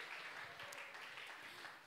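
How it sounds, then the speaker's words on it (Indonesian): An audience at a church talk show applauds in faint, steady clapping from some distance, with a murmur of voices underneath. "tepuk tangan lagi buat Bang Riko dan Kak Vivi"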